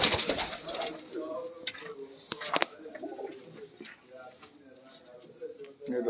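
Breeding pigeons in a loft give soft, low cooing calls near the microphone, scattered beneath people talking, with a few sharp clicks and rustles between the calls.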